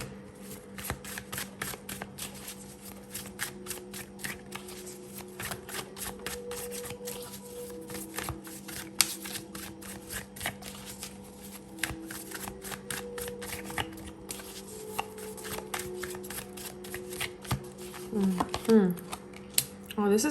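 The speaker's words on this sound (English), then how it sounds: "I'm gonna be using the Steampunk Tarot for this portion of the reading." Steampunk Tarot cards being shuffled by hand: rapid, crisp papery riffles and clicks run steadily throughout, over a soft sustained background tone.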